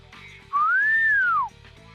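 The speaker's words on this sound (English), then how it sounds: "Verg whistled." One smooth whistle from a person rises and then falls, sustained for about a second and clearly louder than the quiet background music in a visual novel scene.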